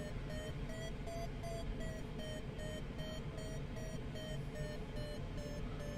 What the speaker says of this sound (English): We're starting to get some beeps on the variometer.